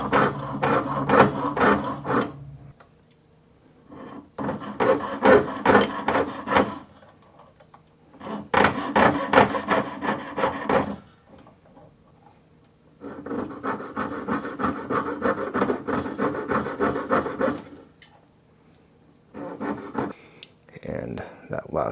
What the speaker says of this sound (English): we'll go ahead and start sawing